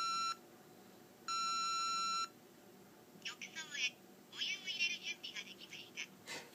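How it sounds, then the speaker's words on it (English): A Japanese bath control console gives two long electronic beeps, the second about a second long, followed by a talking voice over quiet room noise. "the tub thinger will go ahead and fill the tub up and then beep again when it's all done"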